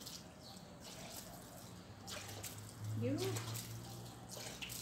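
Tap water runs and splashes softly into a basin while a dog is bathed, a low steady trickle that swells briefly near the middle, with a person talking quietly over it.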